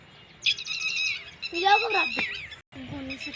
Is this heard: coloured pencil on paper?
no